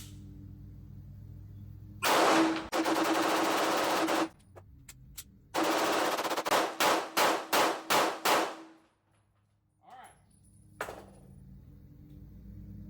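Rapid volleys of shots from an HK VP9A1 pistol with a reduced-power recoil spring, fired on a range: a fast burst, a pause, then a string of about eight distinct loud cracks, followed by faint metallic clinks.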